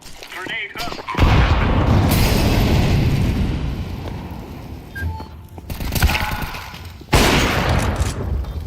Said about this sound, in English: Grenade up.